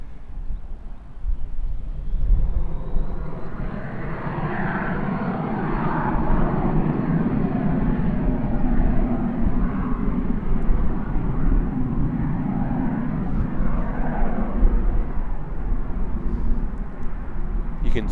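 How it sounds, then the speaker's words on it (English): A Cessna Citation II jet roars at Auckland Airport on a windy day, a loud, steady engine rumble and whine that holds for the whole stretch. "You can certainly hear this aircraft when it comes to Tauranga. Can certainly hear this aircraft when it goes anywhere. The Citation 2 is so loud."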